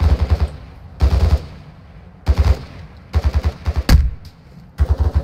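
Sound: gunfire and sniper shot in a video game

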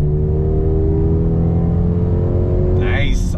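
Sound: 2021 Mercedes-AMG GLB 35 accelerating with fast gear shifts

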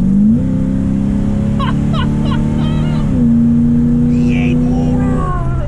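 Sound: 1973 Dodge Charger 340 V8 engine revving

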